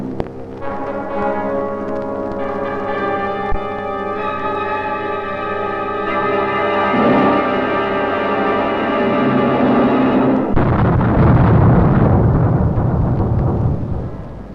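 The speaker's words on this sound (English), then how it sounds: "Grapple X was the code name for the 4th British test explosion in the megaton range" Film recording of the Grapple X British megaton-range nuclear test explosion: a loud, sustained low rumble with tonal droning that swells into a broad roaring blast for the last few seconds, with no talking.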